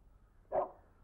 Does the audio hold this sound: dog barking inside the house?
yes